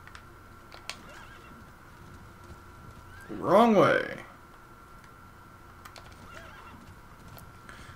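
A single horse's whinnying neigh in Metal Gear Solid V rises briefly mid-clip over faint clicking, with a short spoken phrase and quiet background hum.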